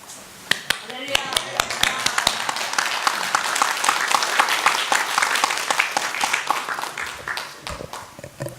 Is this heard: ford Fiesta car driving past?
no